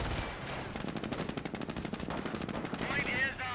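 An MG42 machine gun in the Company of Heroes 1 strategy game rattles off dense, rapid bursts of loud gunfire that run steadily throughout, with other battle sounds mixed underneath.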